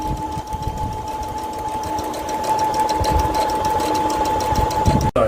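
A sewing machine stitching fabric on a boat during a hurricane, running steadily with a fast mechanical whirr and rhythmic needle clatter, loud and close, ending with a sharp click.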